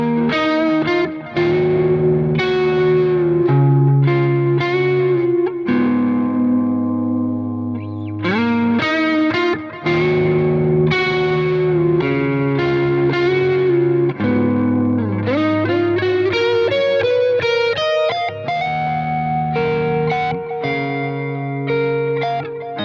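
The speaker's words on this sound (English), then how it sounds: "with the neck pickup, I just expect a round, hollow, woody kind of sound" Gibson electric guitar on the neck pickup, run through effects with distortion and chorus: a round, sustained tone playing chords and melodic runs with some bends, close and loud with no talking.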